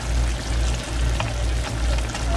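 Hot dog chili made with ground mustard simmering in a pot on a stove, a steady low bubbling sizzle with soft pops, close and continuous, with no talking.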